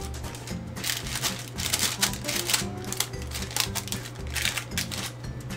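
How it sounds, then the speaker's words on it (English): Dense, steady crinkling and rustling of parchment paper in a baking pan as vegan fudgy brownie batter is spread over it, continuous and close throughout. "I'm sure that crinkly paper sound is great."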